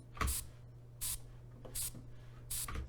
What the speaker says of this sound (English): I got my spray can, my air spray can.